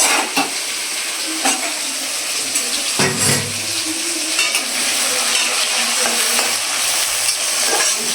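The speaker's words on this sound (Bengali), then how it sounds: "নারকেলগুলো তেলে দিয়ে দিচ্ছি" Coconut pieces frying in hot oil make a loud, continuous close sizzle and crackle, broken by a few stirring scrapes and clinks from a utensil in the pan.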